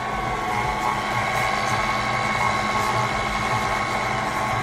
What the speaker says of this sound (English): we're gonna put it in the KitchenAid, and we're just gonna stir / slow speed just so it can just cream up a little bit.